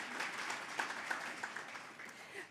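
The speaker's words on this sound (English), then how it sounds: "you can give them a round of applause" A crowd applauding, a soft even patter of many hands clapping at a distance that gradually fades out.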